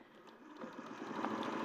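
A sewing machine stitches a seam, a low, even mechanical whir with a rapid needle rhythm that builds slightly as it runs, quiet and close.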